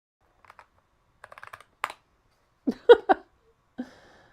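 Sparse, close keystrokes on a computer keyboard, with light taps followed by a few louder, separated key presses and pauses between them.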